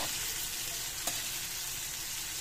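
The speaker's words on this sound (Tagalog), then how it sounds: "Yung pinirito kong tokwa." Tofu frying in oil in a pan, a steady, fairly quiet hiss and sizzle with one sharp tick near the middle, heard alone without speech.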